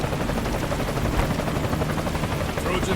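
Loud, close helicopter rotor thudding steadily with engine whine in the video game Metal Gear Solid: Ground Zeroes, filling the whole moment without pause.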